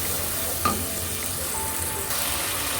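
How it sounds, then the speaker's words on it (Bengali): Turmeric and coriander spice paste frying in a pan, a steady close sizzle with a single sharp clink of a utensil against the pan partway through. "আধা চামচ হলুদের গুঁড়ো এক চামচ ধনিয়ার গুঁড়ো দিয়ে এখন আমি মশলাটাকে কষিয়ে নেব"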